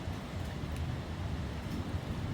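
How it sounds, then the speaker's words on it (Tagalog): Steady wind roars and buffets a microphone continuously during a thunderstorm under tornado alert in Toronto, with dense low rumbling throughout and no other sounds standing out. "Basta yung hangin, kahit malapit, hangin dito."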